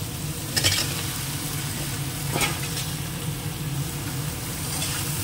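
Onions frying in a pan for a green-chili chicken dish, a steady close sizzle with two brief bursts of stirring, no talking.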